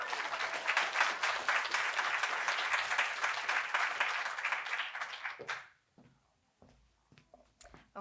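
An audience gives artists a dense round of applause that holds loud and steady for about five seconds, then cuts off abruptly into near silence with a few faint stray sounds.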